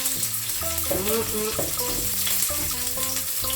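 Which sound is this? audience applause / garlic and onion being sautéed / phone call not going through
garlic and onion being sautéed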